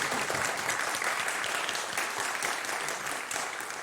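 A church congregation applauds during a Sunday service, steady and fairly soft clapping from many hands that tapers slightly toward the end.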